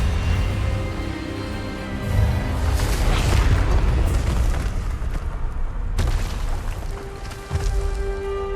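Expelliarmus spell cast in Hogwarts Legacy, a loud booming magical blast that swells and rumbles for several seconds, with a second sharp burst near the end over a sustained musical score.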